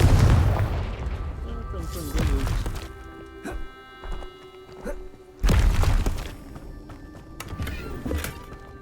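Hogwarts Legacy's Confringo spell going off, with booming impacts among thuds and clattering game sounds, loud and close, plus occasional talk.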